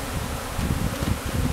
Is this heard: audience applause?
no